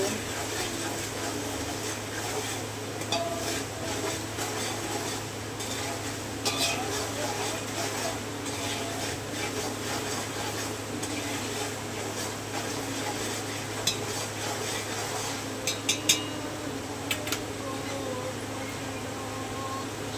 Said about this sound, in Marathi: अद्रक लसूणची पेस्ट टाकणार आहे आता. हलवून घेऊया.